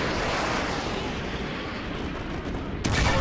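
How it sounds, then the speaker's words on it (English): Artillery fire in the 2009 video game Call of Duty Modern Warfare 2: a continuous, loud, rumbling barrage of blasts that swells into a sharper, brighter burst near the end. "Artillery inbound."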